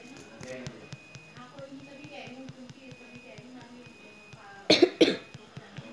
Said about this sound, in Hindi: ये बस खांसती रहती है क्या?